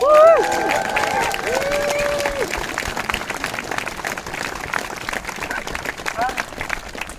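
A crowd breaks into cheers, whistles and sustained applause, the clapping rolling on for several seconds before slowly thinning out.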